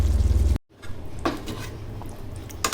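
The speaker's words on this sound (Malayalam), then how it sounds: "നമുക്ക് നമ്മളെ കപ്പ അതിലോട്ടൊന്ന് ചേർത്ത് കൊടുക്കാം" Pieces of tapioca (kappa) tipped into a pot of meat masala for Malabar kappa biryani, giving a low clatter, a brief gap, then scattered clinks and scrapes of a spoon against the pot.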